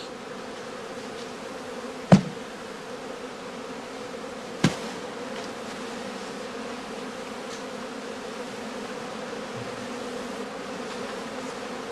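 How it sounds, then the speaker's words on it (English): A dense swarm of honey bees in a skep drones with a steady, low buzz throughout while calmed with smoke, broken by two sharp knocks early on. "He calms the bees with smoke from the beekeeper's pipe."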